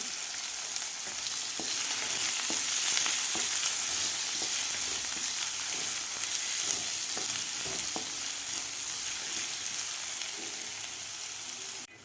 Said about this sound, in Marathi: त्यानंतर कांदा घालायचा आपल्याला कांदासुद्धा आपल्याला व्यवस्थित परतून घ्यायचा आहे